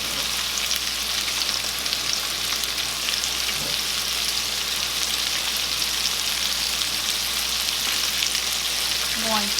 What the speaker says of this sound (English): add in my onions and my peppers and get those going and cook down just a little bit